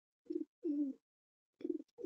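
Tournament pigeons in a loft give soft, low coos, four short murmuring calls in two pairs with brief pauses between them, close by and quiet.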